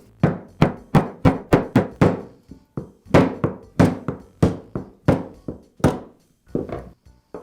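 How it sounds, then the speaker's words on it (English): A DeWALT drill's armature gear is tapped out of its rear gear housing with a hammer: a loud, close series of sharp knocks in quick bursts, about a dozen strikes with short pauses, and no voices. "I'll tap the armature gear out of the rear gear housing"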